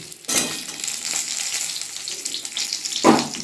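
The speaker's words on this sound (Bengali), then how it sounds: "ফোড়ন দিয়ে এই ভাজাগুলো আবার ছেড়ে দিচ্ছি। আলুটা, কাঁচকলাটা, পেঁপেটা সব আবার ছেড়ে দিচ্ছি।" Fried potato, green banana and papaya pieces dropped back into oil tempered with black cumin, giving a loud burst of sizzle, then steady crackling frying with a second sharp splash near the end.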